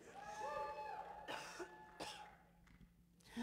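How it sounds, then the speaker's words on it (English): A man coughs several times in short, harsh bursts before a congregation, fairly close and alone, with brief throat clearing between the coughs. "I'm still fighting that cough off a little bit."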